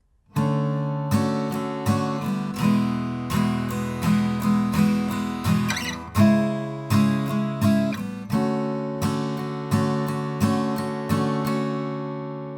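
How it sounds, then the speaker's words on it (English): Acoustic guitar strumming a repeating chord pattern from a song, steady rhythmic strokes with ringing chords, close and clear, no voices. "Now if you want to add a strumming pattern, then we can play this."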